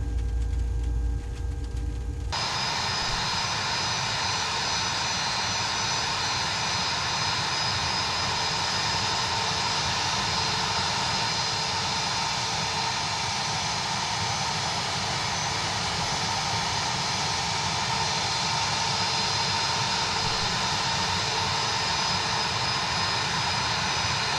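A CRJ 700 airliner in the X-Plane 11 flight simulator taxis with its jet engines running in a constant, even whine and rumble, after a brief lower hum at the very start.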